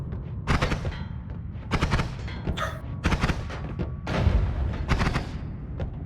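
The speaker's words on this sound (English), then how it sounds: "I guess that explosion noise I heard was a good thing." Explosions in the video game Noita burst out in a string of sharp, loud blasts with rumbling tails, several in irregular succession and no talk over them.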